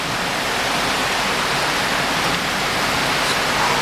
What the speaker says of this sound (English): This is a Bangkok rainstorm on a Sunday night.